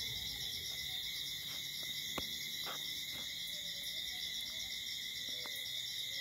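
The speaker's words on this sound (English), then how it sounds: "Listening to the crickets" Steady high-pitched trilling of crickets outdoors at night near a fire, a constant pulsing chorus with a few faint clicks and distant knocks underneath, quiet overall.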